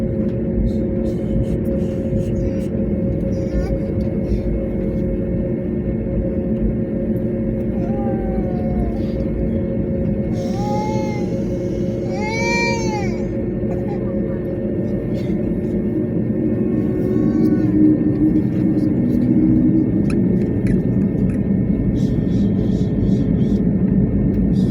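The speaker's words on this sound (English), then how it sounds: "Ladies and gentlemen, we are now ready for takeoff." Inside the cabin of an airliner taking off from Moscow Domodedovo airport, a steady, heavy engine roar and rumble fills the space, with rising and falling whining tones briefly audible midway.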